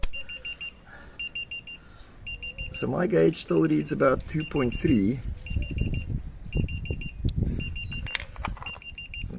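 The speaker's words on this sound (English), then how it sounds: "it's beeping because it's not happy with the fact that the sensor reading is down to 0" Electronic tire pressure monitor alarm beeping in short repeated bursts throughout as a sensor reads zero, with someone talking over it in the middle.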